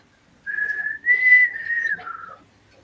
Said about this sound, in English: there's that fucking whistle again